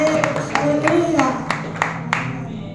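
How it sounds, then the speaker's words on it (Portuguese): A church congregation claps during a Sunday service, distinct evenly spaced claps over a sustained voice and background tone, fairly close and moderately loud. "Vamos aplaudir o nosso rei."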